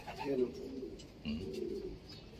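A racing pigeon coos in low, soft, throaty phrases, two rounded calls close by with faint background noise and some voices around.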